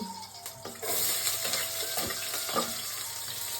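Onions frying in a pan for bachelor fried rice give a steady close sizzle that swells after the first second, with a few faint utensil clinks and no talking over it.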